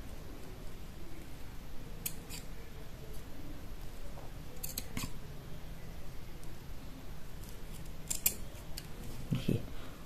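Scissors snip through ribbon for a pearl-and-ribbon garland craft, making a few sharp, separate cuts spread over a steady, quiet background.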